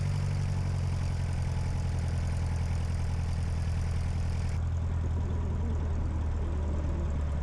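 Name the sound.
large aircraft coming in to land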